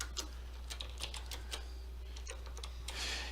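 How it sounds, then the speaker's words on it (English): Keys on a computer keyboard tapped to enter a password at an Aruba 505 or 515 access point login screen, a quiet run of irregular close clicks over steady low hum. "Let me type a password in here."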